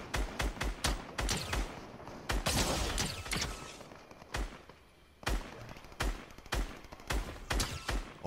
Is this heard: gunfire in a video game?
yes